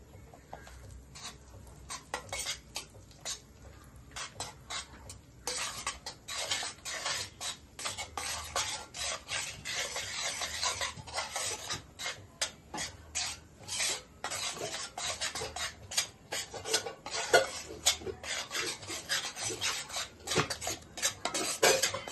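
A spoon scrapes and stirs semolina and gram flour roasting in ghee in a metal pan, a steady run of close, gritty scraping and clinking strokes for the whole stretch, with no talk.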